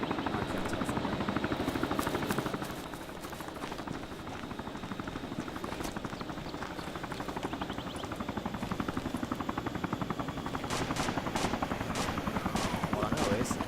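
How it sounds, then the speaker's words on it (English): An NPC helicopter flying overhead in the survival video game DayZ, a rapid rotor chop that stays steady throughout, with someone talking briefly over it. "Is that an NPC chopper?"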